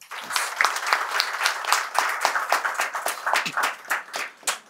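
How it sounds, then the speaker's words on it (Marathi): An audience claps at a BSNL Nashik Circle retirement program, with dense, steady applause from many hands filling the whole stretch and no voices over it. "तर त्यांच्या मिस्टरांसाठी एकदा टाळ्या वाजवा."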